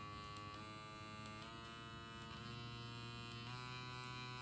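A needle pen's small electric motor whirs steadily with a high buzzing whine, its pitch stepping up a few times as it speeds up.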